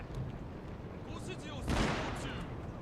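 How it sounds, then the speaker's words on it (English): A musket volley from mounted gunners in the samurai strategy game Shogun 2, a sharp crackling burst of massed shots rising out of the battle din and fading quickly. "There's a volley."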